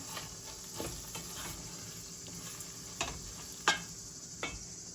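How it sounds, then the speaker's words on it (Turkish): Chard-leaf wrap filling is stirred and roasted in a pan over a wood fire, giving a faint, low sizzle with occasional soft scrapes and clicks from the spoon. "Güzelce karıştırayım biraz kavrulsun"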